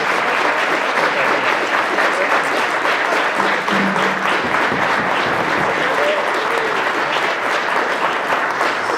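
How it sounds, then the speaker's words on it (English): Sustained audience applause at a candidates' meet-and-greet election night, dense and steady clapping filling the room throughout, loud and close with a faint murmur of voices beneath. "So let's have a huge round of applause."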